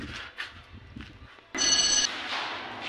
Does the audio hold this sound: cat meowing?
no